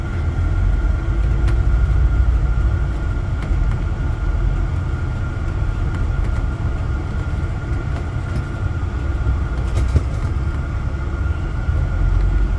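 A CNG-powered coach bus on Sound Transit route ST 574 pulls away with a steady low engine drone and road rumble heard from inside the cabin. A few faint clicks and rattles sit over it, with no talk.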